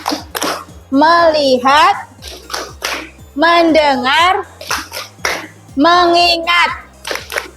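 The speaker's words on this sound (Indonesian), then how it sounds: "Tepuk konsentrasi." Classroom of children performing a rhythmic concentration clapping routine, bursts of kids' chanting voices alternating with patterned claps, fairly close and loud, a teacher's voice also present.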